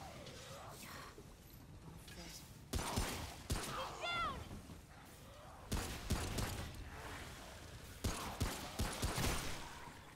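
Remnant gunfire in a swamp setting, a handful of sharp separated shots and short bursts scattered over quieter game ambience, moderately distant.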